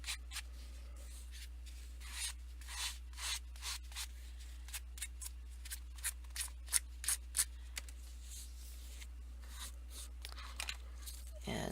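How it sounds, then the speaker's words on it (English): A sanding block is rubbed along the trimmed edges of a handmade paper journal in short, scratchy strokes, a quiet rhythmic rasp repeating close by with small pauses between passes. "Then I'm just going to take my sanding block, hit the edges."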